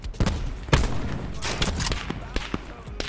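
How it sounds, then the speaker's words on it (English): Gunfire rings out in the Black Ops 4 Blackout battle royale game, with scattered sharp shots and short bursts at mid distance, some louder and nearer, spread unevenly across the moment. "I'm getting shot at, bro."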